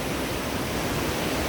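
Krang Suri waterfall in Meghalaya, a steady broadband rush of falling water that holds an even, full loudness without pause and with no voices over it.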